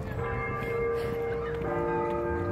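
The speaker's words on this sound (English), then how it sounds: "Oh, chimes." Wind chimes ring outdoors along a walking trail among palm trees, sustained metallic tones layering and shimmering continuously at moderate volume over soft ambient background.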